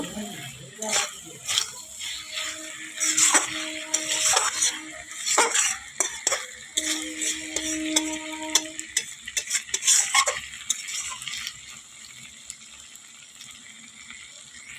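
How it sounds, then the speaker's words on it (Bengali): Mustard paste with chili and turmeric powder fries in a pan, crackling with sharp spitting bursts and stirring scrapes close by, while a voice talks intermittently over it before the sizzle thins out toward the end. "দেখো একটু সর্ষা বাটা দিয়েছি আর একটু লঙ্কা গুঁড়ো দিয়েছি হলুদ গুঁড়ো দিয়েছি চটচটটা দেখো"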